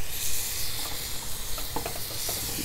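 A steady broadband hiss of chuck eye steak frying on a 200,000 BTU high-pressure gas burner, with faint crackles and pops scattered through, sizzling nearby.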